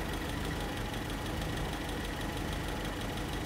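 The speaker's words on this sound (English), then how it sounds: "So what we're gonna do, Steve's just gonna adjust the idle mixture screw to lean it off slightly to bring the CO down." Land Rover 2.25 petrol engine fitted with a Britpart replacement carburettor idling while the idle mixture is leaned off, a steady close mechanical drone with an even rapid knock, unchanging throughout and no talk.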